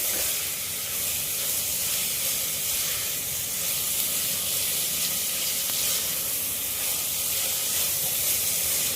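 Four finely sliced onions fry in hot oil for a prawn pulao, giving a continuous bright sizzle and hiss, steady and close, with faint stirring underneath and no voices.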